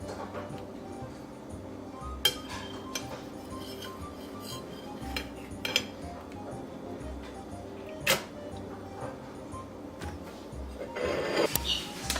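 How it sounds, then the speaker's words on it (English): Cutlery clinks and scrapes against a plate while a slice of caramel flan is cut, a few sharp taps standing out over a steady background of soft music. "So now we are ready to cut a slice and try it."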